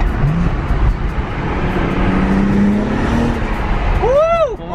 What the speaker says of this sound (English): And hear how good these downpipes sound.